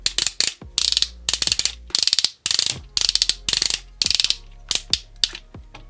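A Transformers combiner toy's leg joint is worked back and forth, its strong ratchet giving off loud, close, rapid clusters of sharp plastic clicks in irregular bursts, with brief pauses between movements.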